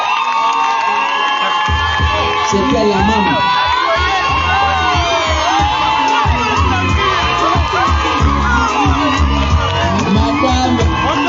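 Wedding guests applaud and cheer loudly, a dense crowd of clapping, whoops and shouts that carries on throughout, with a voice briefly speaking amid the noise.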